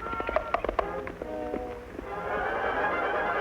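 Hooves of the horse Silver clopping along under a rider, a quick uneven rhythm of taps at moderate distance, giving way to a steady background wash over a musical score.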